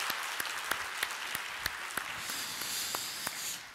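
An audience in a church worship service applauds after a sung performance, giving a steady wash of many hands with a few sharper individual claps standing out, fairly distant and moderately loud.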